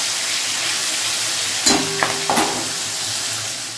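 Fish fries in a pan with a loud, steady sizzling hiss that runs throughout, broken near the middle by a few short clinks of a utensil.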